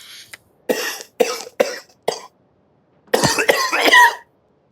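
A man coughs in a string of short, harsh bursts, four quick coughs followed by a longer, rougher fit, close and loud against quiet gaps.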